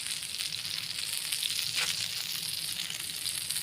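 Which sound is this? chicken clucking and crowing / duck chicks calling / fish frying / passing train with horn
fish frying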